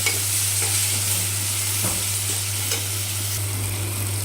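Chopped tomato hits hot oil for a brinjal and potato curry, making a loud, continuous close-up sizzle with repeated stirring scrapes and a constant low hum underneath.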